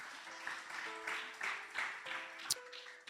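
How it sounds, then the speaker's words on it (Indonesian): Congregation applauding in a church service, a quiet, brief spell of scattered clapping with a voice and a faint tone beneath. "Yang percaya boleh berikan tepuk tangan bagi Allah kita."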